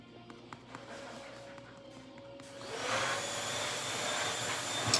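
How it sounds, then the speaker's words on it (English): A household vacuum cleaner starts up partway through, its broad steady whine and roar rising and holding loud to the end, with faint background sounds before it. "Vacuum."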